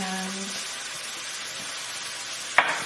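Garlic sizzles in a hot pan, a steady bright frying hiss, with a short sharp clatter near the end as it is stirred or added.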